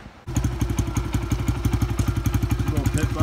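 A Honda CRF100 pit bike engine warming up putters in a fast, steady single-cylinder rhythm, close and loud, after a sharp start.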